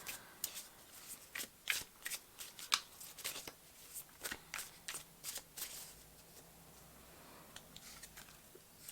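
Tarot cards being shuffled and drawn for a pick-a-card reading, a run of crisp riffling and flicking bursts at close range, fairly quiet, with no voices.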